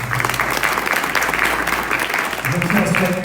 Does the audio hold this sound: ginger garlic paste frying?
no